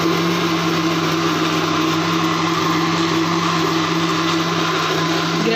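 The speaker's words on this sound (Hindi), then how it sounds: "ब्रेड वाला कुल्फ़ा इसमें डाल लिया है ग्राइंडर वाले जग में, अब इसको ग्राइंड कर लेंगे।" A mixer grinder jug whirs loudly and steadily as it grinds a bread kulfi mixture, a constant high motor whine with a strong low hum throughout, no talking.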